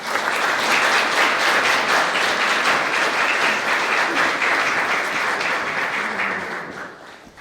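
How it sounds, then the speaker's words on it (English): Sustained audience applause at a civil wedding ceremony in the UK, loud and steady with dense overlapping claps, fading out toward the end. "Round of applause."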